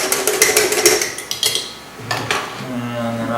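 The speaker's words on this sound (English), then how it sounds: "I'll give it a little stir with a whisk" A whisk stirs a glass of wheatgrass juice, giving a quick run of bright metallic clinks and taps against the container, loud and close, easing off toward the end.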